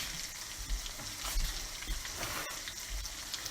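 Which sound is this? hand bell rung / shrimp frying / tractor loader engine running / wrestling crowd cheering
shrimp frying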